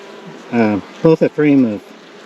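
Honey bees from a newly caught swarm buzz loudly at a hive fitted with frames of brood and honey, in several close, rising and falling bursts over a faint background hum.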